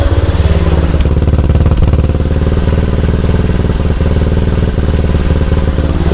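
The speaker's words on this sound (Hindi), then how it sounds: "मैं आपको साइलेंसर का साउंड सुनाता हूँ।" A motorcycle engine runs steadily through its exhaust silencer after a mileage adjustment, giving a loud, close, rhythmic idle thump with even firing pulses throughout and no talk.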